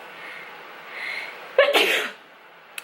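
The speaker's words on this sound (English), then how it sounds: "What I'm going to do is sneeze." A single sharp sneeze bursts out after a quiet stretch, loud and close, with a brief inhaled buildup just before it.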